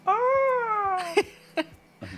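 A voice imitates a peacock call with a long, wavering, nasal wail like a mournful cat, followed by a few short bursts of sound.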